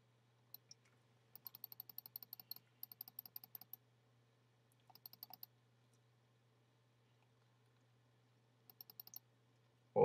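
Quiet, crisp computer mouse clicks in short clusters, some single and some in quick runs of several, separated by near silence over a faint low hum.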